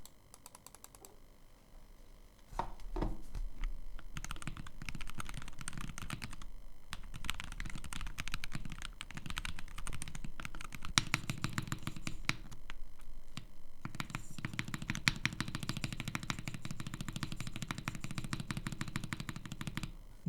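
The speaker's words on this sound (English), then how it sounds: "The result, the keyboard instantly became louder" A Wooting 60 HE+ keyboard with a foam insert between PCB and plate is typed on rapidly and loudly, a dense, continuous clatter of keystrokes that picks up sharply after a quieter opening, with no talking.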